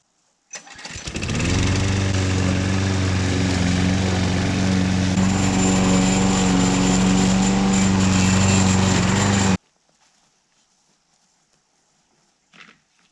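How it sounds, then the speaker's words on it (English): Small, rundown lawn mower at a backwoods off-grid cabin: the engine starts, then runs loud and steady close by for about eight seconds before cutting off abruptly into near silence. "This junky little mower I've got does a great job, I think."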